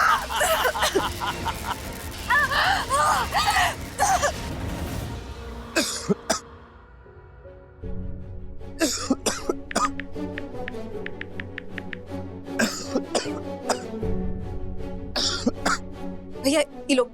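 A man coughs and clears his throat in a domestic scene, with bursts of harsh coughing at the start and scattered coughs and taps later, mixed with people speaking and background music.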